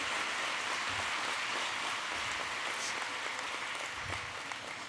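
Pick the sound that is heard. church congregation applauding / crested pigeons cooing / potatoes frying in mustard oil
church congregation applauding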